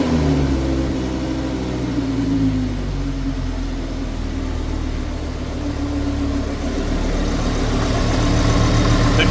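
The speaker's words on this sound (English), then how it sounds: "I want to start the car and see if the noise goes away." An Audi R8 V10 idles with an engine pulley removed, a loud, steady low rumble held close and unbroken from start to finish with no talk.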